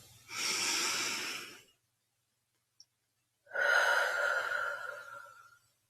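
Two deep meditation breaths, a long airy inhale followed by a slower, fuller exhale with a quiet gap between, close and intimate with no speech.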